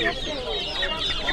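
Turkey chicks at the Sokuluk livestock market give a steady stream of high, thin peeping calls, close and continuous, with a busy market din behind.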